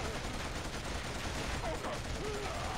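Rapid gunfire bursts from the PS3 video game Killzone crackle over a dense, noisy background, with sustained shooting throughout.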